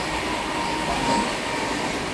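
A passenger train runs on rails between Virudhunagar and Thoothukudi, heard from on board as a loud, steady rolling rumble and rattle with no talking.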